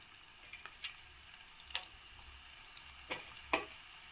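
Whole spices (cinnamon, cloves, cardamom, star anise) and green chili frying in oil for Telangana-style bagara rice, giving a faint, even sizzle broken by a few sharp crackles and pops.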